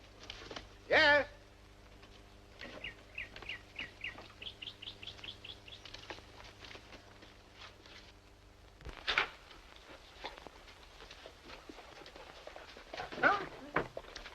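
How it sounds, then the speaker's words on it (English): A dog in a 1948 American crime film barks and whimpers. Short, repeated yelps and whines come in bursts across a quiet room, with a few louder sharp barks, moderately close. "Look at Mr. Dog. No manners."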